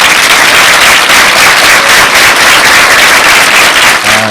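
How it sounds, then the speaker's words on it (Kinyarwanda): Parents visiting Glory Academy school get a round of applause at a school event. The clapping is loud, close and densely packed, holding steady for several seconds before breaking off near the end. "twifurize ababyeyi bacu baje kudusura, tubaha ikaze, tubaha amashyi menshi cyane"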